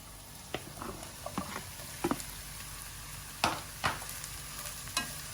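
Mushrooms added to shallots sizzle in a frying pan with a little olive oil and butter, under a steady soft crackle, while a spoon stirs them in a series of scraping clicks and taps, close and fairly quiet.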